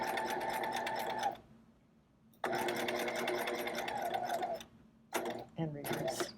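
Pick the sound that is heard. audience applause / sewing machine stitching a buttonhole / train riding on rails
sewing machine stitching a buttonhole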